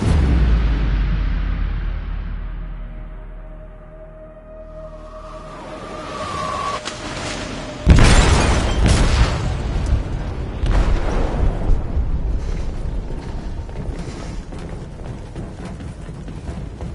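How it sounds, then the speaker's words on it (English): An explosive goes off in a ship's hold in a video game: a rumble fades, then a sudden loud deep boom hits, followed by sustained crashing and rumbling debris. "They detonated an explosive in the hold."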